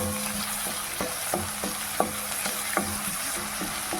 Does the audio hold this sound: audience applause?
no